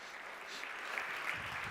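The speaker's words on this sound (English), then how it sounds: "Thank you to both of you, and this is your round of applause." Conference audience applause, a faint, blended wash of many hands clapping that swells slightly toward the end, distant and without clear individual claps.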